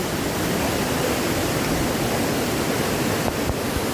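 Lastak Falls in Dingalan, Aurora, a waterfall pouring down with a loud, dense, continuous roar of rushing water, heard up close and unbroken.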